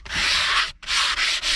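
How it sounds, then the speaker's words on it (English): A sanding block rasps back and forth across a handmade wooden table top in a shed, loud and close, in two long strokes with a short pause between them. "I'm just going to give it a bit of a sanding down"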